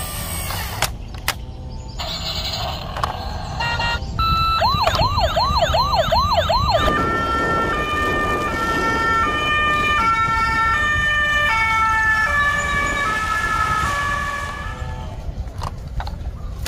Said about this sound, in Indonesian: di sini ada mobil polisi